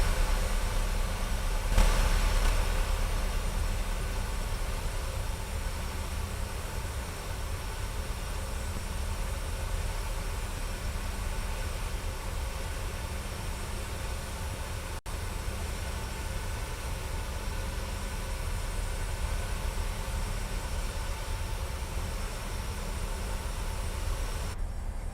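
Steady whining airliner engine noise during taxi in a flight simulator game, a constant broadband roar that holds evenly throughout with a brief bump near the start.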